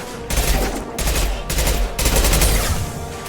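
Rapid bursts of gunfire in the video game Mass Effect, loud and close, coming in several dense volleys with short gaps between them.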